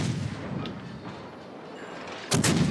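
Torpedo hits explode in a naval warfare game, a deep booming burst arriving suddenly after a stretch of low rumbling ambience, loud and close.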